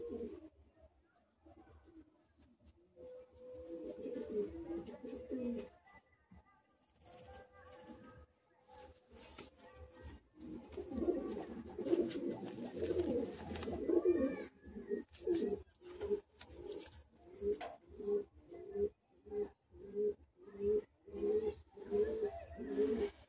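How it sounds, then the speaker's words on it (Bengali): Andhra pigeons, chalk-white birds of the Lambadi type, coo in repeated rolling phrases that swell louder in the second half, with scattered rustling and brief voices nearby. "এটা আন্ধ্রা পায়রা আছে, চক সাদা, যেটা লাম্বাডি বলে।"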